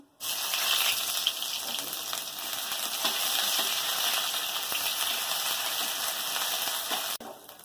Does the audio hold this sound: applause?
no